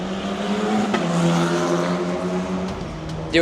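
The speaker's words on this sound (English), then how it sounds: "behind me, we have the F1 Academy cars doing" F1 Academy race car engines drone and rev nearby while practicing race starts at Miami, a sustained mechanical whine that holds steady before a sharp burst near the end.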